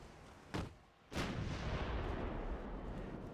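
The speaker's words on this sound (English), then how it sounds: "Right, artillery is coming in." Naval artillery in the warship game Ultimate Admiral: Dreadnoughts, two heavy booming shots about half a second apart, the second followed by a long rumbling roll that lingers, loud and fairly close.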